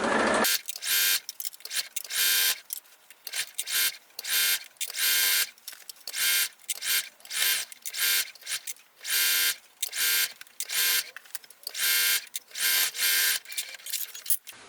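A sewing machine stitches a tote bag sewn from shirt scraps, running in loud, steady bursts with short pauses between, close and alone.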